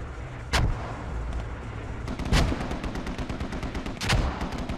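Three loud, sharp gunshots ring out in the tactical shooter game Squad, spaced roughly two seconds apart, each with a booming echoing tail over constant low background rumble.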